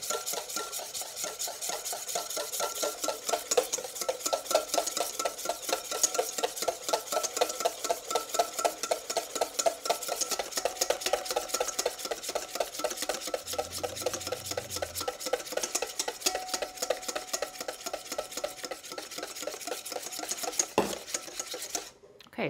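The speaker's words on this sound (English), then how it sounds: "you wanna keep whisking quickly when you add the rest of the oil" A whisk beating oil into raw egg yolks for homemade mayonnaise, rapid rhythmic clicking and scraping against a bowl, steady and close for the whole stretch with no speech.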